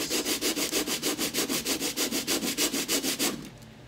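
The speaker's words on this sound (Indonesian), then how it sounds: "kita butuhnya membentuk ini supaya kita amplas" Sandpaper rubs back and forth on a part of a JN39 rubber-powered model plane, about seventeen quick rhythmic strokes close up and fairly loud, stopping near the end.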